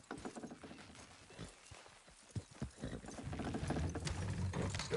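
Horses in Red Dead Redemption 2 straining to pull something down, their hooves clip-clopping in an uneven rhythm with creaking mechanical strain building into a steady rumble, fairly faint and without talking.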